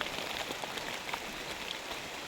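Steady rain hisses down continuously, a dense wash of drops pattering on leaves and surfaces with no voices.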